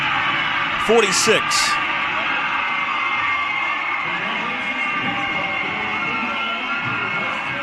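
A packed high school gym crowd at a varsity basketball conference tournament semifinal roars without a break after a one-point buzzer-beater win. A whistle or horn sounds early on, and an announcer talks over the noise.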